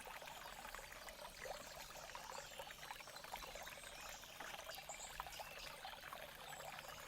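Creek water trickling steadily through a rainforest, a continuous soft wash of running water with no break, close and even in level, no voices.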